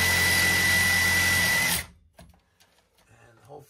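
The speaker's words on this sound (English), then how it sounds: "So we're making some diagonal cuts across the pipe, trying to not nick the threads of the T" A power tool cutting diagonally across a pipe nipple threaded into a boiler fitting tee, a loud steady whine for almost two seconds, then it stops abruptly, leaving faint clatter and handling sounds.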